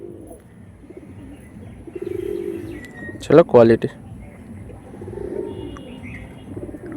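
An Andhra pigeon coos softly in short bursts near the start and end, while a person speaks briefly in the middle.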